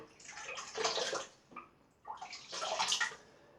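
Running water wets a cashmere shaving brush, heard as two close bursts of splashing flow separated by a short pause, with no talking.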